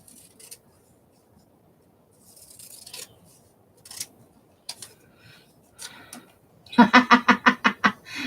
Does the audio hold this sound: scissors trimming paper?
yes